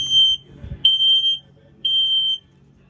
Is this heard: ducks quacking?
no